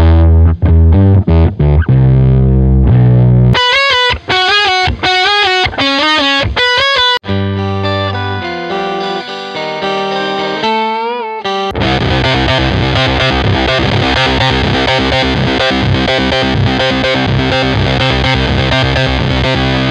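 Electric guitar run through a Digitech Whammy pitch-shifting pedal, loud and distorted, with notes sweeping and jumping in pitch, short choppy bursts giving way to sustained bends and a dense, heavily processed chordal wash.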